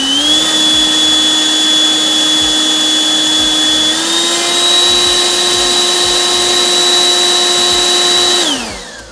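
A Husqvarna battery-powered handheld leaf blower runs loud and close with a steady high whine that steps up in pitch partway through, then winds down sharply at the end.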